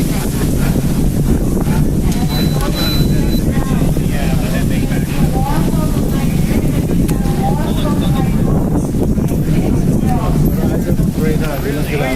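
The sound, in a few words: strong wind blowing into the microphone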